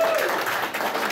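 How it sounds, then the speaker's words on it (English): Brief burst of audience applause at an anime convention panel game show, steady and fairly close for just over a second. "give Jen a round of applause, guys"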